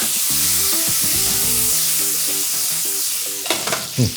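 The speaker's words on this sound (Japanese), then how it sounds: "ソテーしていきながら、よし、もうここで火を止めてしまい、バルサミコ、これを絡めていく。" Carrots and other vegetables hiss and sizzle steadily in a hot frying pan, with a few clacks of stirring near the end; no one speaks.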